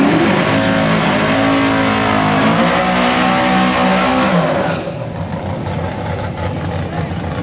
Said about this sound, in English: Guy Petrano doing the burnout in his 68 Camaro, and again another naturally aspirated big block car.